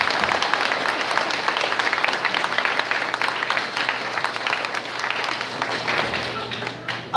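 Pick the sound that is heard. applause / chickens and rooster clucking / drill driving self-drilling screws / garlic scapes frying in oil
applause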